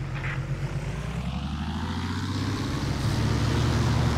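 A propeller aircraft's engine in the War Thunder video game throttles up, its steady droning hum rising in pitch and growing louder toward the end, heard alone without talk.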